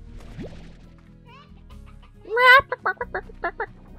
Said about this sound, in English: Whenever I hear chicken noises in video games, I just think of Zelda.